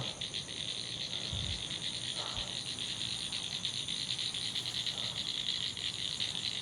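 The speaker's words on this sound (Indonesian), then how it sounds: "Kayak suara-suara kodok kayak gitu kan." Frogs croaking around small ponds in an overgrown grassy area at night, a steady pulsing chorus of calls mixed with cricket-like chirring, continuous and moderately loud throughout, with no talk.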